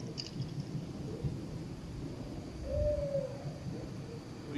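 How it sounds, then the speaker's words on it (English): An owl hoots once at night in the woods, a faint, far call heard behind a steady low rumble and rustling near a trail camera set out with pizza and peanut butter. "you can hear the owl in the background"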